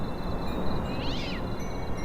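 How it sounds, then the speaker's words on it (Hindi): A cat in a shawarma shop video game lets out a single short meow, faint over a steady hiss of background noise. "हाँ ये कैट है"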